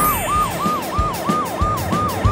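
A loud cartoon ambulance siren wails in quick, repeating up-and-down cycles, close by, with low thumps underneath.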